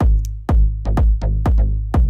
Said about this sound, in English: The kick and the basses are sounding like these together.